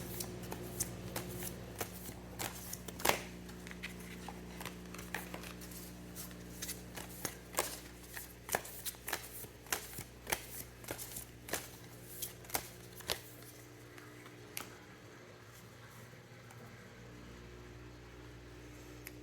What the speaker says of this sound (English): Let me just draw a few more cards and see if there's anything else.